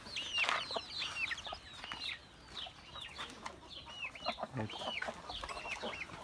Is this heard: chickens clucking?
yes